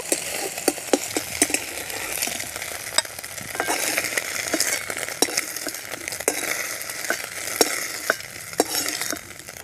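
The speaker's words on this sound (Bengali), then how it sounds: "ডিমের ঝুড়ি বানিয়ে নেব।" Beaten eggs in an oiled wok are stirred and fried soft, with a steady close sizzle broken by frequent sharp spatula scrapes and taps throughout.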